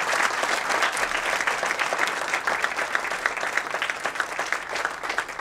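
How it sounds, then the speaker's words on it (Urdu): An audience at a Faiz poetry evening claps loudly and steadily, dense applause filling the hall with a continuous crackle and no voices over it. "آپ کی زوردار تالیاں اس بات کا ثبوت ہوں گی"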